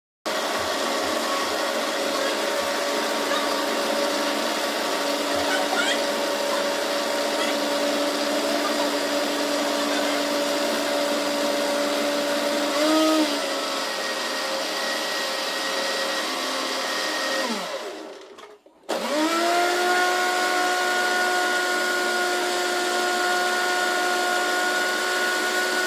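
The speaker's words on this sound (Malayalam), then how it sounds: "ഇത് നന്നായി മിക്സിയിലിട്ട് ബ്ലെൻഡ് ചെയ്തെടുക്കുക" An electric kitchen mixer grinder runs steadily while blending ingredients, a loud continuous motor whine with a steady tone that briefly cuts out and then restarts near the end.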